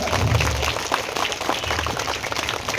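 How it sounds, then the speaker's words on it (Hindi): Dense applause from an audience at a school annual day celebration in an Urdu school, welcoming a guest: steady, continuous clapping throughout with no one speaking. "तो हम सब मिलकर जोरदार तालियों के साथ सादिक सर का वेलकम करेंगे"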